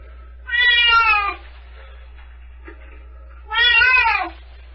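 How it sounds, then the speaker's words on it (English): A cat outside a door gives two long, loud, drawn-out meows a few seconds apart, clear against a quiet indoor background. "The other meow that you hear is Gussie outside the door"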